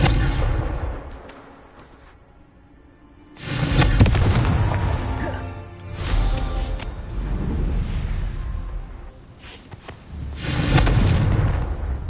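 Repeated loud blasts of the Confringo explosive spell in the Hogwarts Legacy video game, several booming bursts separated by quieter gaps, each with a rumbling tail.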